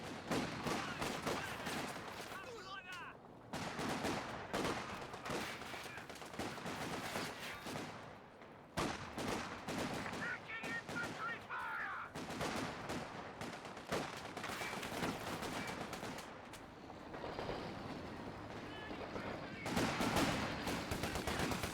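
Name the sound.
Maxim machine gun fire in a war video game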